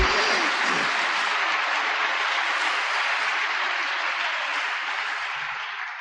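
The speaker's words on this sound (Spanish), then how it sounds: "Palmas para el cielo." A church congregation claps hands in praise: a dense, steady roar of applause lasts several seconds and fades slightly at the end, with no voices standing out.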